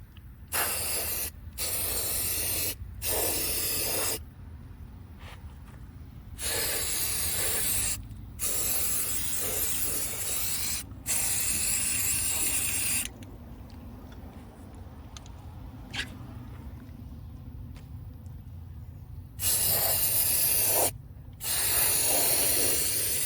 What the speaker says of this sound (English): we're just going to spray paint